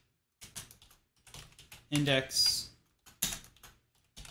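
Computer keyboard typing while writing Python code comes through as short, quiet bursts of clicking keys in small irregular clusters, with someone talking over it.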